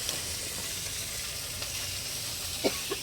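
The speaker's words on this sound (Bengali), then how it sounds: "এখানে আবার মাছ ভাজা হচ্ছে" Fish frying on a wood-fired stove in a village kitchen, a steady close hiss of oil with a few light clinks and pops near the end.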